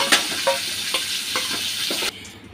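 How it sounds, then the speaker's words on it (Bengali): A fish head, from a bata fish, fries in hot oil in a pan with a steady sizzle, broken by several sharp stirring scrapes at a regular pace, before the sound cuts away abruptly near the end. "মাছের মাথাটা ভাজা হয়ে গেছে, আমি এবার তুলে নেব। হালকা করে ভেজে নিলাম।"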